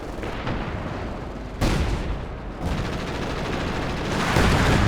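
A Centaur anti-aircraft gun fires in Company of Heroes 2, a loud, dense stream of rapid bursts with sharp onsets, mixed with battle rumble and booms, heard close and continuous.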